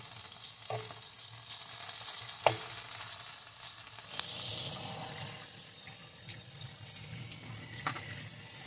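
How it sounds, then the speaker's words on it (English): Cabbage sizzling in a pan, a constant frying hiss with a few sharp clicks and light stirring scrapes throughout. "The sizzle."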